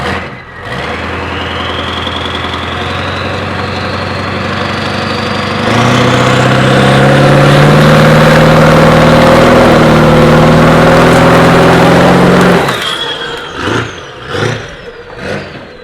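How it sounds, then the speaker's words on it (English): Snowmobile engine idling steadily, then revving hard as its turbo spools up with a rising whine, holding a loud roar before cutting back to a few short blips near the end. "The sound of that turbo spooling up is insane."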